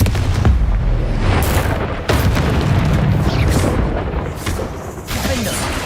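Deep booming blasts from the Confringo fire spell in the game Hogwarts Legacy, several heavy explosions with sharp onsets and rumbling tails, loud and close, following one another over a few seconds.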